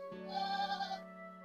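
A goat on a farm gives one clear, close bleat lasting about a second, with a wavering tone, then a short fading tail.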